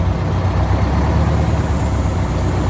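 A broken-down Eagle bus running in gear, its engine a steady, loud low rumble that holds constant throughout with no talk over it.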